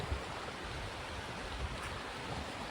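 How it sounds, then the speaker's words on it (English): A river rushes in a steady, continuous broadband wash, close to the microphone and unbroken throughout, with no voices present. "I hope you can hear the river through my mic"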